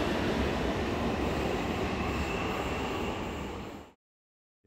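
A Munich U-Bahn subway train pulls into an underground station with a loud, steady rolling rumble and rail noise that fills the clip before cutting off abruptly near the end.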